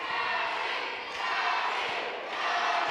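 Wrestling crowd at a live ASWA Winter Reunion show cheering and roaring, a dense, loud, continuous wash of voices that swells and dips slightly, with no distinct speech on top.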